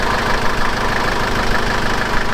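Mercedes OM615 diesel engine idling in a Unimog, with retimed ignition and worn injectors, a loud steady clattering run with even knocking pulses and no voices.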